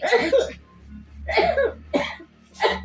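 Repeated coughing in a Bengali home scene, four harsh bursts spaced roughly half a second apart, close and fairly loud with a steady low hum underneath.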